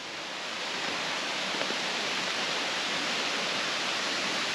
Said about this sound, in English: We can hear the water running, so I don't think we're too far away from the falls.